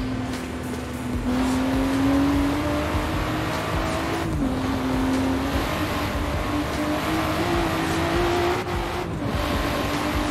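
A car engine hums and revs in Forza Horizon 3, a steady close drone whose pitch climbs gradually with brief dips between gear changes.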